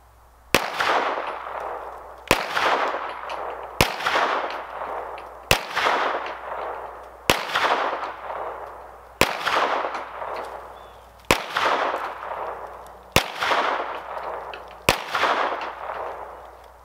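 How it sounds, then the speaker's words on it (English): Nine shots from a Springfield 9mm Ronin 1911 pistol at an outdoor range, each a loud sharp crack with a ringing decay. They come at a steady interval of about 1.7 seconds, with no talk. "Okay, so I went ahead and did all 9 shots there."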